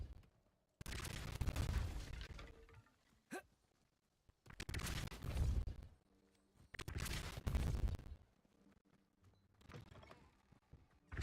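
A Depulso spell cast in the Hogwarts Legacy video game, heard as loud whooshing bursts that repeat several times with short gaps of quiet between them.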